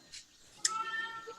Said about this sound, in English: he follows the sound of the distant mewling